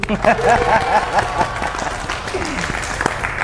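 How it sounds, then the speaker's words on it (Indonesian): A few people clap in a small podcast studio at a Solo radio station, with light, uneven hand claps mixed under a speaking voice. "boleh tepuk tangannya di studio"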